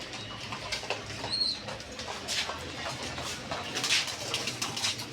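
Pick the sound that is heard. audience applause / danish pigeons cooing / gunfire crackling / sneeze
danish pigeons cooing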